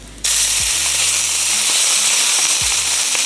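Steak fat cap searing over high heat, a loud sudden hiss that starts abruptly and holds as a dense, close crackling sizzle, with a low hum beneath.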